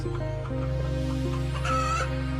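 A hen clucks in short, close, repeated calls over a steady low background hum, with a brief rising squawk near the end.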